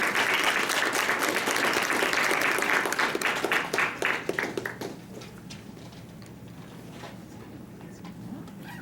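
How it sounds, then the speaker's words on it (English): A lecture audience breaks into loud, full applause that holds for several seconds, then thins into scattered individual claps and fades to quiet. "Can I get another round of applause"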